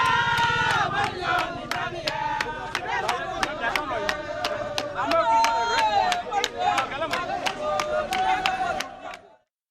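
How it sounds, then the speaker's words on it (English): A large crowd of political party supporters outside a court cheers and chants loudly, with rhythmic claps or beats punctuating the continuous roar until it cuts off at the end. "A number of them cheering him on."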